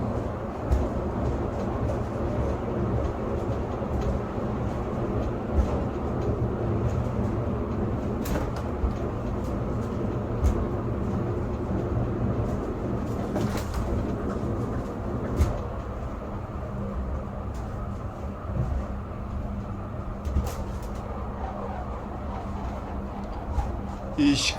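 Train running along a single-track line with a passing loop, a steady rumbling ride noise with low droning hum and occasional clanks, continuous and fairly loud throughout while people talk over it.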